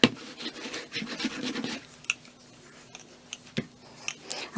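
Scissors cut wrapping paper that has a plastic film running through it, giving a quick run of close crisp snips and rasping, then a few scattered ticks and scrapes.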